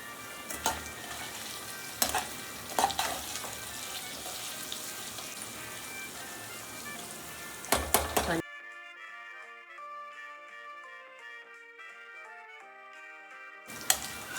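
Paneer sizzles and crackles in a hot pan with occasional stirring knocks for about eight seconds; the frying then cuts to quiet background music, and the sizzle returns briefly at the very end.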